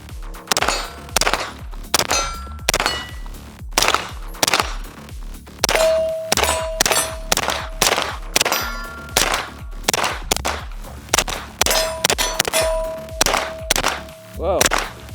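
A 9mm submachine gun fires through a magazine outdoors, loud sharp shots in rapid bursts and single reports with short pauses between strings, ringing metallic echoes trailing some shots.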